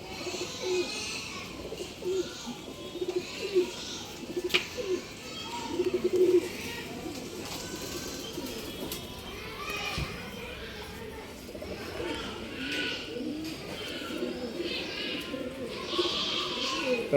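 Pigeons kept for sale in a Bangalore shop coo repeatedly in soft, overlapping calls at close range, with people talking and background chatter throughout.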